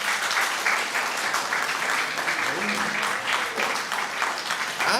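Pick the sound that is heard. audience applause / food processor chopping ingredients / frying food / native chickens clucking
audience applause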